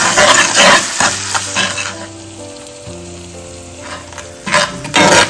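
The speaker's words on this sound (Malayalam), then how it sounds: "പിന്നെ നമുക്കൊന്ന് മിക്സ് ചെയ്യാം കേട്ടോ." Spice paste stirred into beef and ivy gourd frying in a pan, with a loud steady sizzle and stirring scrapes at the start and end, easing to a quieter simmer in the middle.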